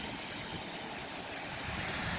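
Upper Big Bug Creek flows with a steady, even rushing hiss heard close by outdoors, with no voices.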